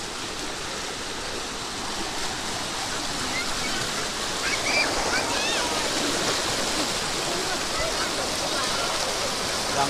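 Water rushes loudly and steadily at a hidden waterfall, a dense continuous roar filling the scene, with a few voices faintly audible beneath it.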